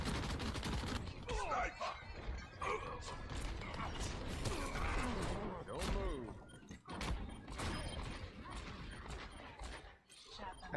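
Widowmaker's rifle firing in the Overwatch video game: rapid, sharp cracks and mechanical clicks in a dense, busy burst of game effects that continues throughout.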